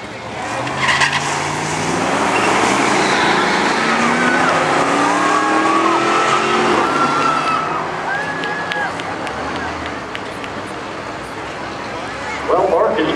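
Custom cars drag race down the strip at a Cummins truck fest, engines roaring and tires squealing in a continuous loud rush, heard over a public-address announcer talking throughout.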